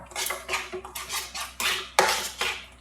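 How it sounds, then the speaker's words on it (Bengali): Utensil scraping and clinking against a pot while chhana is stirred into a mango sweet mixture, in repeated rhythmic strokes, close and fairly loud, with no talk. "ছানাটা দিয়ে এটার সাথে ভালো করে নাড়ব"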